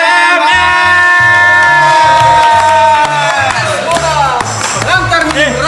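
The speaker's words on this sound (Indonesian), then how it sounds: "Kita sambut dengan tepuk tangan paling meriahnya" A live crowd at an Indonesian music show cheers loudly to welcome a well-known musician, with sustained shouts, whoops and yells close up and a low rhythmic backing beneath.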